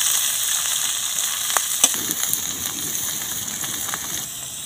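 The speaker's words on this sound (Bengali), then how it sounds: "কড়ার মধ্যে দিয়ে দিচ্ছি সাদা তেল। বিনস আর গাজর একসঙ্গে দিয়ে দিচ্ছি।" Beans and carrots frying in white oil in a wok for veg chowmein, a steady close sizzle with a few brief clinks and stirring knocks, no talk.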